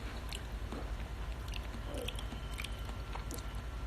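Someone chews macaroni close to the mic, soft wet mouth sounds and small squishy bites over a low steady background hum.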